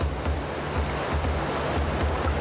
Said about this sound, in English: That's loud water.